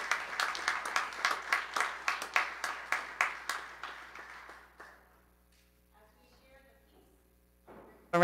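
A church congregation at a worship service gives a round of applause for a newly baptised baby, a dense burst of clapping that steadily fades over about five seconds into near silence, followed by faint sounds.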